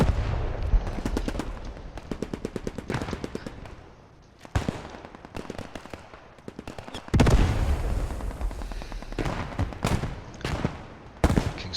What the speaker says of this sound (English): Long range fire.